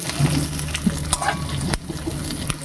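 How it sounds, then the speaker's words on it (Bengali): Cubed onions frying in a pan, a steady sizzle running throughout with occasional stirring clinks and scrapes, close and fairly loud, no voices. "এবার আমরা পেঁয়াজটাকে একটু ভেজে নেবো"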